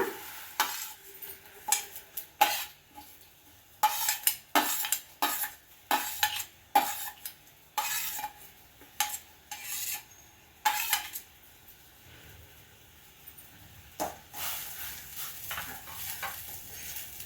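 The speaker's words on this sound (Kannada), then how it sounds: "ಹಾಲು ಕುದಿ ಬರ್ತಾ ಇದೆ ಇವಾಗ ಇವಾಗ ಶಾವಿಗೆಯನ್ನು ಸೇರಿಸ್ಕೊಳ್ಳೋಣ" Vermicelli is stirred into boiling milk for shavige payasa, a spoon scraping and clinking against the pot in a quick irregular series of sharp strokes over a faint simmer, close by with no talking.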